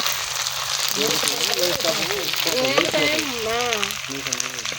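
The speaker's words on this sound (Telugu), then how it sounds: "ఇగో ఎన్ని చేపలు ఉల్లిగడ్డ వేసుకున్నా మంచిగా కలుపుకోవాలి. నూనెలా వేగాలి మంచిగా." Onions and dried fish fry in hot oil with a steady broadband sizzle and crackle throughout, while someone speaks over it for most of the clip.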